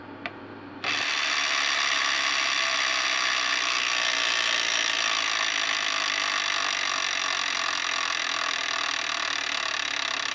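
Wheel of Fortune Deluxe Edition electronic tabletop game wheel spinning after a brief click, giving off a loud, continuous rapid ratcheting clatter that holds steady for about ten seconds.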